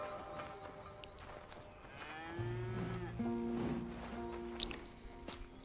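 Cattle lowing in Red Dead Redemption 2, a long drawn-out moo followed by a second one in a farmyard scene during milking, moderately close and clear, with no speech over it.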